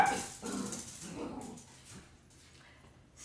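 Scout, a dog indoors, whines and gives short yips at another dog out in the yard while someone cooks; a couple of close, moderately loud vocal bursts come early, then trail off into quieter room noise.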